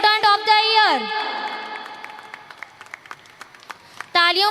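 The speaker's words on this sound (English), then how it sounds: "Give big round of applause everyone." An audience at a school annual prize distribution claps for an award winner. The applause is steady and moderately loud, with a voice speaking over it at the start and again at the end.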